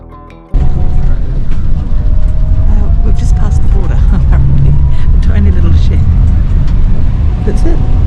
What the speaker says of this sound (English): This is an ALSA bus.